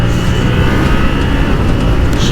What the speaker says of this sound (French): tu ressens vraiment que c'est le moteur CP2